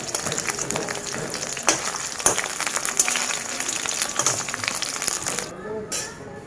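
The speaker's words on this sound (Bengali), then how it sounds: "তেজপাতা আর গোটা দিয়ে ফোড়ন দিয়ে রান্না করছি" Bay leaf and whole spices tempering in hot oil in a home kitchen give a steady, close, dense sizzle full of sharp crackles and pops, easing off briefly near the end.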